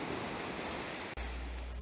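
Ocean waves at the beach make a steady, broadband wash of surf, loud and close, with a brief dip midway and no voices.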